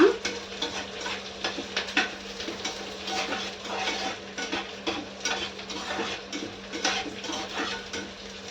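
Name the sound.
frying spices for mango pickle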